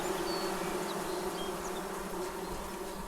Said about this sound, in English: Yeah, bees!